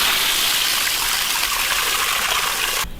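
Water gushing in a strong, steady hiss from the multi-setting spray nozzle of an expandable garden hose, loud and close, cutting off abruptly at the end.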